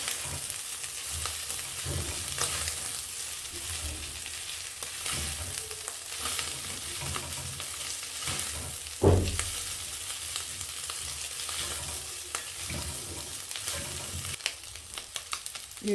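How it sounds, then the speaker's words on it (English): Matumbo tripe fries in a pan while being stirred, giving a constant close sizzle with soft scraping strokes and one brief knock, no voices. "We stir for like 5 minutes."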